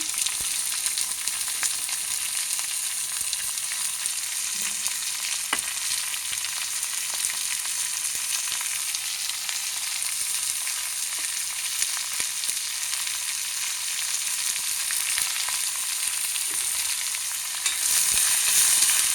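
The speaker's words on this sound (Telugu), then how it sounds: "ఇప్పుడు ఉల్లిపాయలు పచ్చిమిరపకాయలు వేసుకొని వేసేస్తున్నాము" Onions and green chilies fry in a cast iron kadai, a dense, steady hiss of sizzling oil that runs unbroken for nearly twenty seconds and swells slightly at the end, close and alone.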